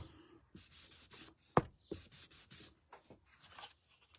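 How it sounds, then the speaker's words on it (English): Sandpaper rubs over painted wood to distress a painted lamb, making quiet, close, rhythmic scratchy strokes. There is a few short taps partway through and no talking. "you can lighten it right back up just by sanding it again"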